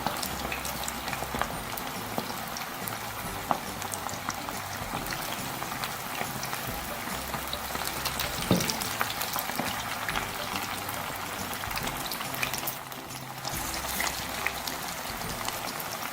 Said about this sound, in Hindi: मीडियम फ्लेम पे फ्राई करेंगे।